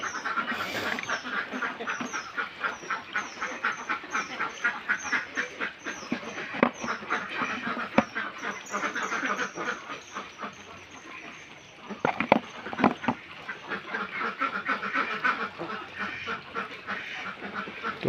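A flock of about 210 ducks on a farm quacks constantly in a noisy, overlapping chorus, near and loud, with bursts of rapid calls throughout.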